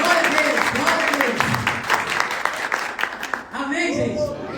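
A church congregation claps in dense, continuous applause, with a preacher's voice speaking loudly over it before the clapping thins out near the end.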